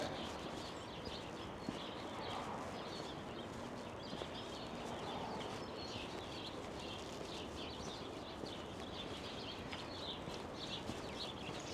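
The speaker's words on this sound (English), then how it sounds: "Little sparrows running around" Sparrows chirp in scattered, overlapping tweets over a steady outdoor wash of street noise in a small-town alley in Waterville, Maine, with occasional faint clopping sounds.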